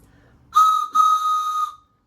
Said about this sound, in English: I've got my whistle.